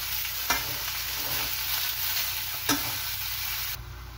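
Pork and pepper frying in a pan for Filipino binagoongan, with a steady close sizzle, two sharp stirring scrapes and a brief high hiss near the end, no talk.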